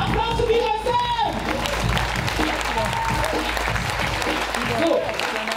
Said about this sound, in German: Applaus für B-Boy Sam